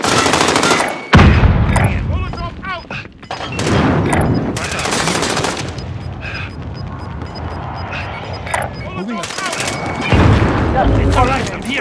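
Grenade blast and bursts of automatic gunfire in a Call of Duty Warzone battle royale match, loud booms and rattling volleys at close range, with voices calling out between shots.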